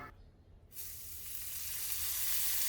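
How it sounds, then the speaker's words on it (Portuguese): Half a spoon of margarine hits a hot griddle on a wood-burning stove and breaks into a loud, steady sizzle that builds and holds after a brief quiet start. "Com a nossa chapa quente, nós vamos colocar uma meia colher de margarina para"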